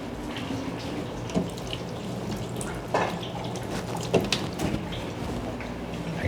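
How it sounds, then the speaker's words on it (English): A kitchen tap runs steadily as hands are rinsed under it, a close continuous splashing hiss with a few small knocks and drips breaking through. "I'm gonna give my hand a quick rinse."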